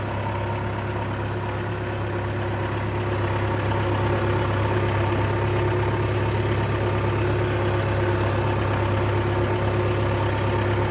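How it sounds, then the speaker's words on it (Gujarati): An Alt tractor and a Mahindra tractor run side by side in a castor field, one in first gear and the other in third medium, making a steady, loud, low diesel drone with no break and no talk. "જો ભાઈઓ એકદમ બાજુ બાજુ એ ટ્રેક્ટર પહેલાં ગેરમાં હાલે અને આપણો હાલે ત્રીજા મીડિયમમાં"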